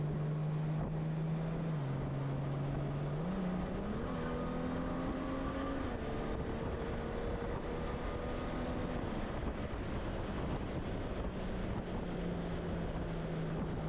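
Honda Goldwing GL1800 motorcycle engine with a Stage 1+ ECU flash, revving in sport mode with manual shifting; a steady close engine drone whose pitch climbs in steps and then holds, over continuous wind rush, with no talking.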